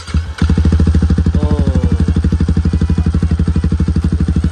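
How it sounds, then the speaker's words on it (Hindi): A Yamaha MT-15 motorcycle fitted with an aftermarket carbon-fibre-look exhaust starts up with a quick crank, then settles into a loud, close, steady idle with a fast even thumping pulse. "पहले मैं बाइक को ऑन करता हूँ,"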